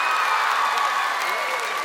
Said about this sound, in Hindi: ये मुनावर के नाम पे तालियां मार दो यार दबा के।